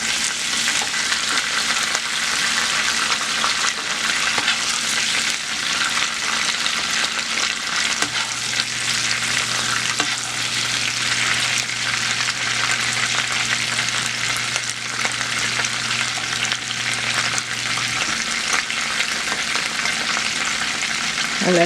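Blackened garlic shrimp frying in a hot pan, a steady loud sizzle and spatter running throughout with no voices, a low steady hum joining partway through.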